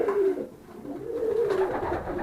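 Pigeons coo in low, soft, repeated throaty calls, close up and continuous, with a faint background hush.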